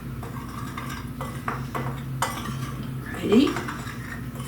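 A utensil scrapes and clinks against a bowl while melted ice cream muffin batter is stirred together, a steady mixing sound with a brief voice and a faint background hum.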